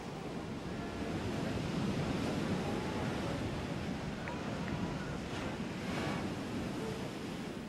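Heavy ocean surf breaks continuously on a beach at a lifesaving championship, a broad roaring wash mixed with wind buffeting the microphone, steady and fairly loud throughout.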